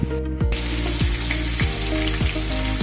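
Whole spices for biryani masala fry in a pan with a steady sizzle up close, marked by repeated rhythmic scraping strokes about every half second, and no speech.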